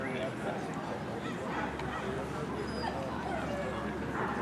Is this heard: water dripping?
no